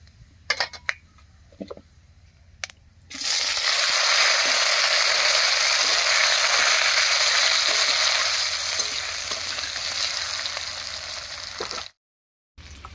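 Potato pieces hit hot oil seasoned with whole cumin, bay leaves and whole garam masala and are stirred. After a few faint clinks, a loud, close, steady sizzle starts, then cuts off abruptly near the end.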